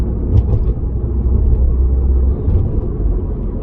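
Citroen DS3 engine fitted with a performance induction kit, a loud, close, low rumbling drone heard from inside the moving car, with slight dips in level as the gears change.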